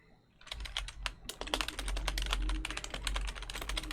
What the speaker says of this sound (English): I need to get my better mic so I don't hear those clicks and clacks, the keyboard and mouse